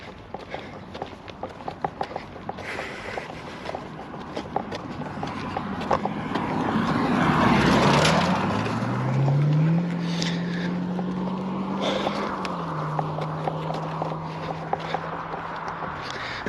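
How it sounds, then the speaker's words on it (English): Car approaches and passes on a rural road during a long walk, swelling from faint to loud mid-clip with a rising engine hum, then fading away, while footsteps and a clopping sound continue close by. "here's a car coming"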